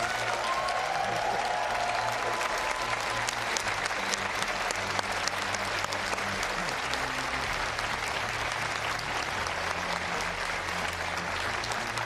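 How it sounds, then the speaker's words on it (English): Sustained applause from a large audience fills a college auditorium before a televised governor's debate, dense continuous clapping with scattered cheers and faint voices underneath. "Give yourselves another big round of applause."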